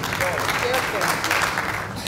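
Audience applause at a mushaira poetry recital, a steady wash of clapping with voices mixed in beneath it.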